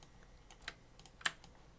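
Quiet computer keyboard and mouse clicks while a Control key is held to copy and drag objects in Affinity Designer, a few sparse isolated clicks with one sharper tap near the end.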